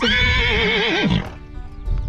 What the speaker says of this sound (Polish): koń idzie właśnie bryczką